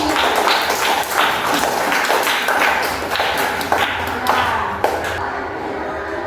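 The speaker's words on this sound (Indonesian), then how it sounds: "kasih aplaus dulu untuk diri kita ini" Classroom group clapping for themselves, a run of sharp, fairly even hand claps at close range, a small group rather than a big crowd, with some talking mixed in.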